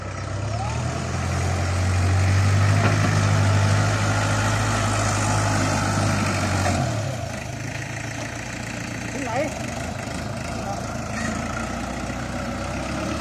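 A farm tractor engine runs close by, a steady low idling rumble that swells louder for several seconds, then settles back to a quieter chug, while people talk over it at times.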